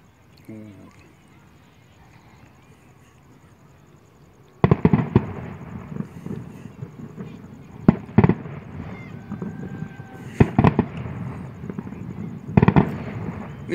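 New Year fireworks burst outdoors at night, first quiet, then a run of loud sharp bangs and crackling pops at irregular intervals, with scattered distant booms between them.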